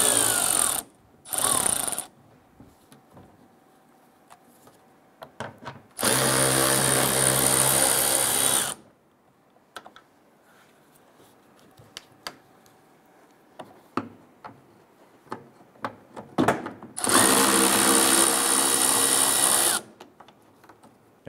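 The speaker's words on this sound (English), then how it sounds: "This is now going to expose our 10 millimeter screws holding this to the body. Let's go ahead and remove these." A power drill whirs in three separate bursts while removing 10 mm screws from the rear bumper bracket of a 2012–2017 Toyota Camry, loud and close, with quiet clicks and handling noises between the bursts.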